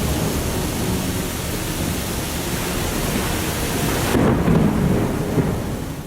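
Heavy rain pours in a steady broadband roar during a thunderstorm on a sloped mountain-town street, with deep thunder rumbling underneath that swells louder near the end.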